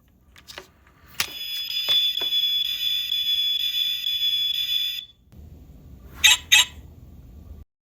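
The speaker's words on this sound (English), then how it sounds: "The alarm." A scale-model Honda / Acura NSX toy car sounds its electronic car alarm. A few clicks lead into a steady, piercing alarm tone held for several seconds, followed by a pair of sharp chirps over a faint hum.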